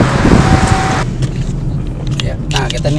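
A car on a test drive after its engine was worked on, a loud engine rumble for the first second that gives way to steady road noise with people talking inside the cabin.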